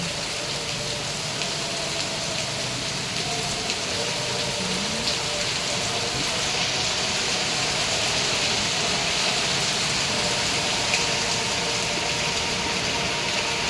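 Heavy typhoon rain pours without letup in Vigan, Ilocos Sur, a dense, steady hiss of water on surfaces that holds at the same level throughout, with no voices.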